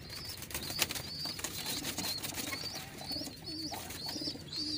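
Pigeons in a loft, with soft repeated cooing running throughout alongside occasional wing flaps and light rustling, heard close and moderately quiet with no talking.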